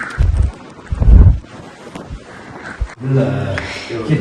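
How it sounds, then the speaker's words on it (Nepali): Gusty, cold wind buffets the microphone in heavy low rumbling bursts outdoors on the road to Mustang, Nepal, with a voice speaking faintly at times. "आज चाहिँ यस्तो छ एकदमै चिसो हावा लागिरहेछ"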